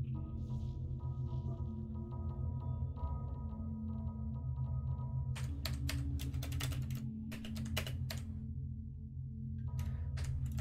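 Computer keyboard keys clatter in quick bursts of typing, close and crisp, over a steady background hum from a Far Cry 3 game session, with pauses between runs of keystrokes; no talking.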